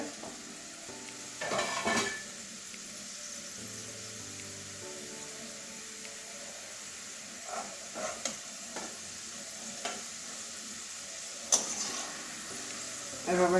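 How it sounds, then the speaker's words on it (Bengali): Onions deep-frying in oil until reddish brown, a continuous close sizzle with occasional clinks and scrapes of a spoon against the pan, and a voice speaking at times. "একটু আর একটু লাল লাল করে ভেজে নেব"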